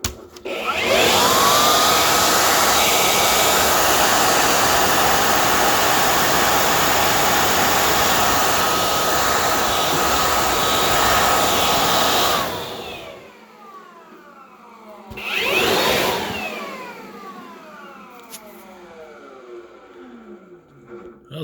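A Dewalt leaf blower blasts dust out of a computer case and CPU fan with a loud, steady whoosh for about twelve seconds. It then cuts off and gives a second short burst, with faint whining fan spin-down between.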